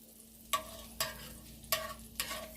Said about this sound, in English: we're going to let this garlic cook first, and then we're going to put the onions in